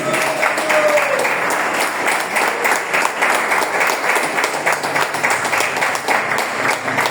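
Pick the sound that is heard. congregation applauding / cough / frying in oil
congregation applauding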